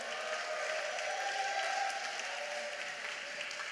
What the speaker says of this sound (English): I'm going to pretend that applause is because he asked me to come back after 6 years